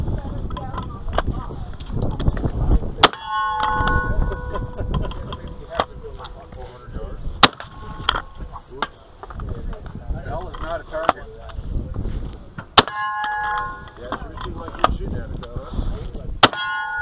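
Rifle shots ring out at a stage of a western-style shooting match, each followed by a sharp metallic clang from steel targets, a dozen or so impacts spaced unevenly over the stretch with background voices and outdoor noise.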